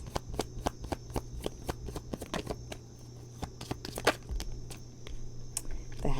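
Tarot cards shuffled by hand in a steady run of crisp riffling snaps, close and fairly quiet, continuing for several seconds with a brief faint voice near the end.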